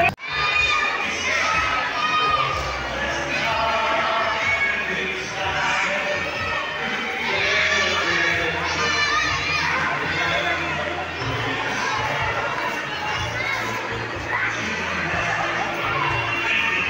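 Children at a Christmas party shout and cheer together in a loud, continuous crowd din that never lets up for the whole stretch.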